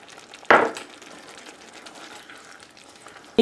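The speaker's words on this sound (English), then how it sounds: "So right now I'm gonna add my onions" Onions and onion leaves hit a hot pan for a garden egg stew, giving one sharp sizzling burst followed by a low, steady frying hiss.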